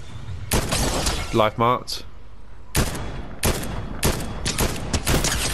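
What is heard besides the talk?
gunfire in Fortnite video game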